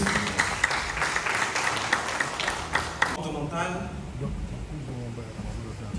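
Applause from an audience fills the first three seconds, then fades as a voice begins speaking over lingering room noise.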